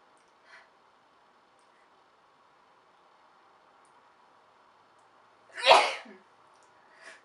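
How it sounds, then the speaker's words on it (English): A single loud sneeze bursts out in an otherwise quiet room, preceded by a faint short sound and followed by a soft noise at the end. "And I need to sneeze."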